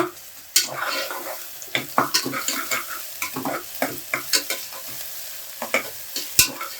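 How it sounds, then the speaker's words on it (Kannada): Onions fry in a little oil while a spoon stirs them, giving repeated scraping strokes and clacks against the pan over a steady sizzling crackle, close and fairly loud. "ಈ ಥರ ಚೆನ್ನಾಗಿ ಮಿಕ್ಸ್ ಮಾಡ್ತಾ ಇರಬೇಕು. ಎಲ್ಲ ಕಡೆನೂ ಈರುಳ್ಳಿ ಚೆನ್ನಾಗಿ ಬೇಯುತ್ತೆ"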